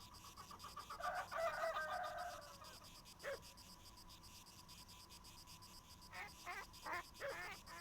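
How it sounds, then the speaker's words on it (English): Chicken clucking sound effect from a Philips CD-i drawing program, a bright, choppy run of clucks near the start, then a few quick squawks, all over a steady electronic tone. "Is that what chickens sound like in France?"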